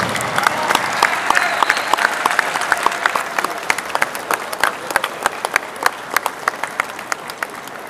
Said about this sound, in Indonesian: Kita berikan tepuk tangan yang meriah sekali lagi